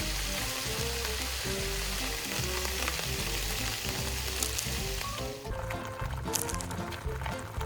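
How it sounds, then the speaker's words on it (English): Miniature crab frying in bubbling hot oil, a steady dense sizzle and crackle throughout, close and loud, with the frying briefly shifting and crackling more sharply near the end. "The crab shell slowly changes color as it cooks in the bubbling oil."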